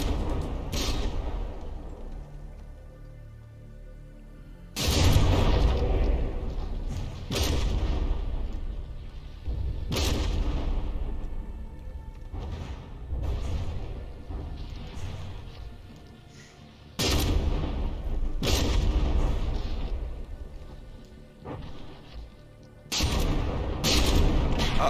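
Battleships in the game From the Depths fire heavy guns, with repeated booming shots hitting at uneven intervals and rolling explosions and rumble sustained between them, loud and without talk.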